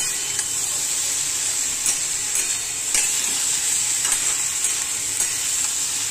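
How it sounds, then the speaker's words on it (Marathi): Boiled potatoes stirred in a pan for a children's tiffin vegetable dish, a steady sizzle with repeated scraping strokes of the spoon, close and alone throughout. "त्याला फक्त हलवून घ्यायचं म्हणजे झालं"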